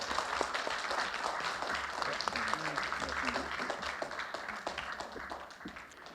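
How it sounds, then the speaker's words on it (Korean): Warm, sustained audience applause closing an academic colloquium in a rented hall, a full even wash of clapping that holds steady throughout, with faint voices mixed in underneath. "여러분 함께해 주신 모두에게 힘찬 박수 부탁드리겠습니다."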